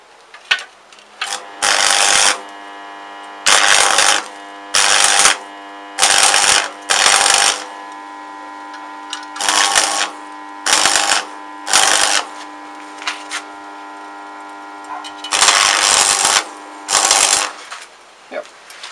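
Arc welding fills a metal footboard plate with weld, loud crackling buzz bursts in repeated on-off runs of roughly one to two seconds separated by short pauses.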